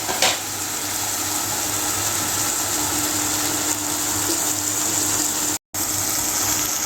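Mixed vegetables for a vegetable biryani sauté in a pan with a steady, loud, close sizzling hiss that runs almost unbroken, cutting out for only a moment near the end.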